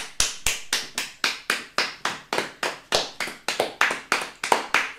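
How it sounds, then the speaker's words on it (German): Hands clap in a quick, slightly uneven series of about twenty sharp claps, close and clear in a quiet room during a family vegan-box unboxing. "Oder klatschen."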